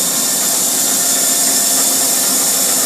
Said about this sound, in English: Spindle sounds okay for the age of the machine. It's got a little bit of a whine to it